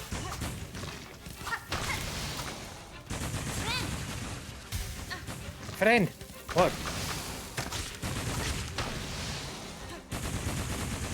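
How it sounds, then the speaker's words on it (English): Repeated explosions and bursts of gunfire boom through the sound of the game Silksong, with someone shouting briefly over the chaotic, rumbling noise. "Constant explosions!"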